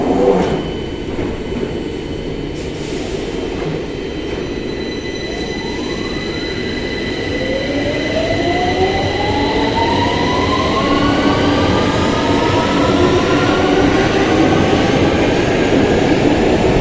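A 2009 train pulls away from a platform, building from a rumbling start into rising whines that sweep upward as it gains speed, with wheel squeal and a loud steady roar over about seventeen seconds.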